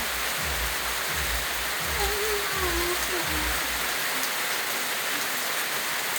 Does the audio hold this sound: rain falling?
yes